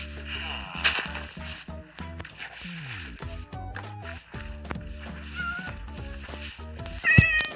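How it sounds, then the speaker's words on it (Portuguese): A kitten meows repeatedly and insistently close by, in short cries of changing pitch, some stretched into wails. A person speaks softly to it in between, with scattered bumps and handling noise. "Ei, gatinho, sai daí, gatinho."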